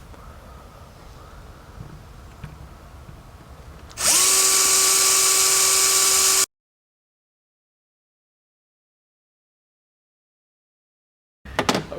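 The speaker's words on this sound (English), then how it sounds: "it is a little bit scary drilling into the trunk lid." Power drill boring into the trunk lid of a Honda Goldwing GL1800 motorcycle, one loud steady whine that spins up and holds for about two seconds, then silence, then a brief restart at the end.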